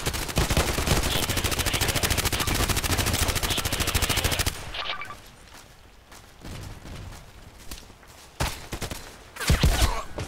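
Rapid, loud machine gun bursts in the shooter game Contract Wars, a dense sustained stream of shots for several seconds, then scattered single reports and short bursts further off amid quieter ambience.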